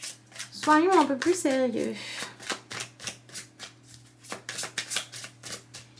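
A deck of cards shuffled by hand for a tarot-style card reading, a rapid riffling flutter in the background, with a person speaking over and after it.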